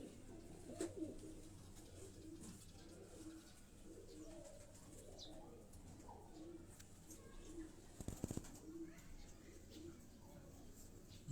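A pearl-marked pigeon coos in soft, low, repeated phrases close by, with faint chirps and small rustling sounds around it, all quiet.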